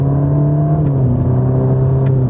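A Ferrari Roma accelerates hard on a demanding road, its engine a loud, continuous throaty drone with rising and shifting pitch as it pulls through the gears, heard close without any talk.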